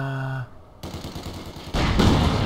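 Gunfire on a Company of Heroes 2 battlefield, dense crackling shots and rattling bursts mixed with loud battle noise, rising to a heavy close barrage.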